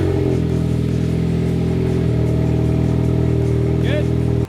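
A Ford Focus ST engine idling steadily up close, a loud, even mechanical drone with no revving, continuing unbroken to the end.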